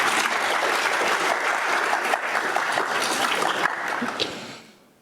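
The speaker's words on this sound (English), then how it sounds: "So give yourselves a round of applause." A conference audience claps loudly and densely in a sustained burst of applause that fades away over the final half second.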